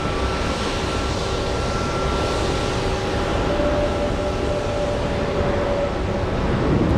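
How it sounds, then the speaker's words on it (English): A jet airliner roars down runway 15 Right at Boston Logan, a broad, steady, loud rumble of engine noise with a faint tonal whine that stays constant throughout, and no voices. "So it did take off on 15 right"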